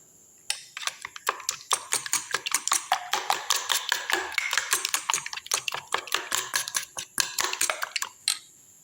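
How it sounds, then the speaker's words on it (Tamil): Rapid, regular tapping and clicking as egg batter is whisked in a bowl while coconut milk is added little by little, loud and close with a quick, even rhythm and no talk. "இந்த தேங்காய் பாலை கொஞ்சம் கொஞ்சமாக விட்டு விட்டு கலக்குவோம்"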